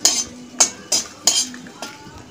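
Dry red chillies and spices being fried in a hot wok for mango pickle: a spatula clanks and scrapes against the metal in a steady rhythm of about six sharp strokes, with only a faint sizzle beneath.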